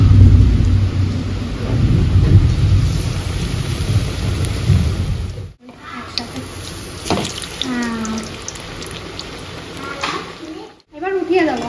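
Heavy rain falls in a loud, dense roar. Partway through it cuts out briefly, and thunder-like rumbles and splashing water follow. No voices are heard over it.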